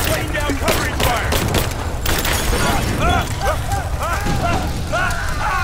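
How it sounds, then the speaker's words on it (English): Covering gunfire in the video game Rise of the Tomb Raider, rapid bursts of shots and booming blasts over several seconds, mixed with character voices shouting. "Laying down covering fire!"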